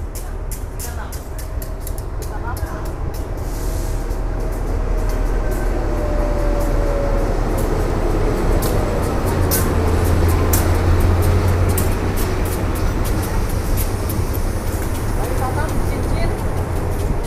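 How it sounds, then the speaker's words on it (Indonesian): The Lembah Anai passenger train, a single locomotive pulling one coach, arrives at a station in West Sumatra with a loud, steady low rumble that swells as it nears, while a person talks over it. "Kereta api Lembahanai yang saya naiki sudah sampai."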